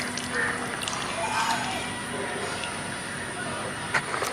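Prawn curry gravy boiling in a pot, a steady hissing bubbling wash with faint pops and a brief knock near the end, close and continuous.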